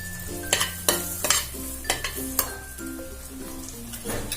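Garlic, red chilli powder and dried red chillies frying in hot oil in a kadhai, a steady sizzle broken by several sharp scraping stirs of a spoon against the pan, close and clear with no voices.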